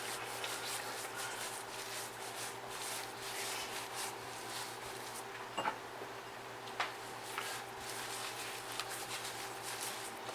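Cure mixture being rubbed by hand into a pork belly for homemade bacon, a quiet, steady rubbing with a few light ticks and taps, close up over a faint constant hum.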